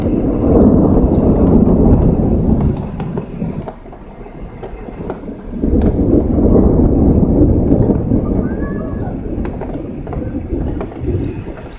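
Thunder rolls through an electrical summer thunderstorm in the Somme, France: long, loud low rumbles that swell, fade briefly and build again, with wind noise and no voices.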